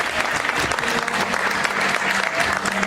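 Gala audience applauding pageant contestants at a Miss Excellence Oise election, a loud, dense wash of many clapping hands that is steady and close, with faint crowd murmur beneath it.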